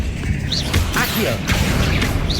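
Accio spell cast in the video game Hogwarts Legacy, a mix of whooshing magical sweeps, chimes and a few thuds from the game audio, layered over moderate background music and effects across the whole stretch.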